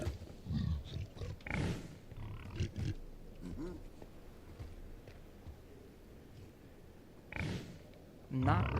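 Pigs oinking and snorting in the Minecraft Cobblemon mod, several short grunts near and fairly loud, scattered irregularly over a quiet game ambience.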